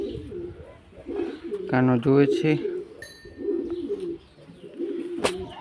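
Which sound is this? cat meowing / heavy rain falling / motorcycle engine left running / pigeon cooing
pigeon cooing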